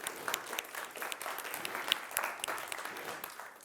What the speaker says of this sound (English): we can give him a round of applause here as well